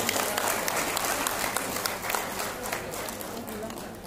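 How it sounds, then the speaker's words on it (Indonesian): A large conference audience of early-childhood teachers applauds, with dense, sustained clapping across the whole stretch and a slight fade toward the end. "Tepuk tangan untuk para Bunda PAUD."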